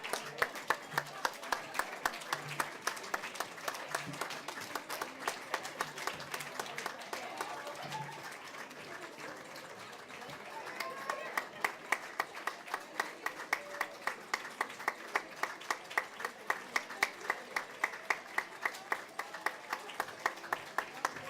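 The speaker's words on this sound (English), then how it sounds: "Come on, give me some applause." Audience applause at a live creativity show, a crowd clapping steadily throughout with sharp individual hand claps standing out, the clapping thinning briefly midway then swelling again, with faint voices underneath.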